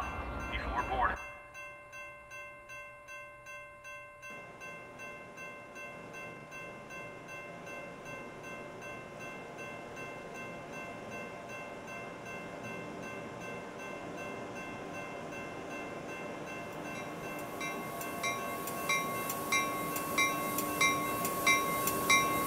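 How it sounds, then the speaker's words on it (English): A Metra train arrives at a station in Roblox, a steady mechanical rumble with rhythmic clatter that grows louder toward the end, with a station announcement voice at the start. "The next inbound Metra train to Chicago is now arriving in your station."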